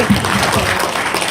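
An audience at a local meeting claps after a joke about a rooster, a short, loud burst of dense clapping heard close and continuous for its whole length.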